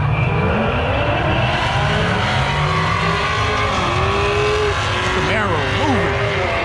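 Cars drag racing at night at Texas Motor Speedway roar past at full throttle, with rising and falling engine tones and a sweeping pass near the end, heard over continuous crowd and track noise.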